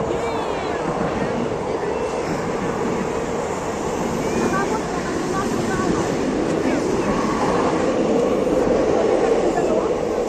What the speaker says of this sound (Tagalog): May train na naman.